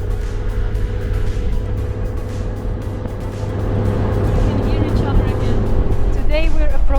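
Steady road rumble and engine drone of a car driving on a tarmac road in Namibia, heard continuously from inside or close by, growing slightly louder toward the end, with a voice briefly heard at the close.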